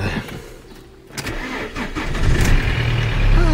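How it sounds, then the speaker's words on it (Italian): An old car's engine is cranked, catches and fires into a rough, rising idle that grows louder and steadier toward the end, heard up close with no talking over it. "Accendiamo un po' la macchina"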